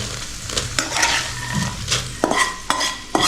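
Tempering is stirred into puffed rice in a pan, with a soft sizzle under repeated scraping strokes and several sharp metallic clinks of a spoon against the vessel, close by and without speech.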